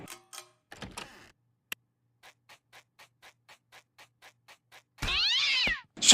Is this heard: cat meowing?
yes